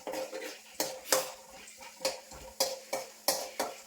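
Chana dal and urad dal stirred in hot oil in a pan, a quiet faint sizzle broken by regular metallic spoon scrapes against the pan about every half second.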